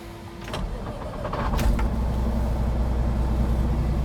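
A 2024 Peterbilt 389 truck engine cranks briefly with a few clicks and whines, then fires up into a loud, steady diesel rumble.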